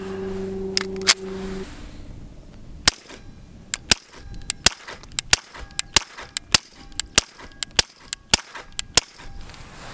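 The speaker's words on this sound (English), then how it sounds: "10 more rounds, let's see how long I can go without putting my ears in." Suppressed 9mm shots from a Glock 43X fitted with a modular Q Erector silencer, about fifteen sharp reports in a steady, fairly quick string, close and loud, with no talk.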